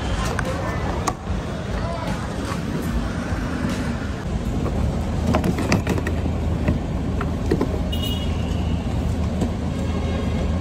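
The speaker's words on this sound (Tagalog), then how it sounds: "Oh, traffic na naman." Dense Metro Manila rush-hour traffic during the holiday season, heard from inside a vehicle: a constant engine and road rumble with scattered clicks and knocks, steady and fairly loud throughout.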